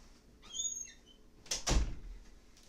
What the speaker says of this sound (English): let me go shut the door real quick.